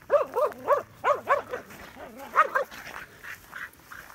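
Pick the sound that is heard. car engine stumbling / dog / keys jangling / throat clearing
dog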